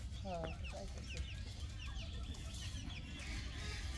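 Chickens cluck and chirp in quick scattered bursts at a rural homestead yard, faint and somewhat distant over a low steady rumble of background noise.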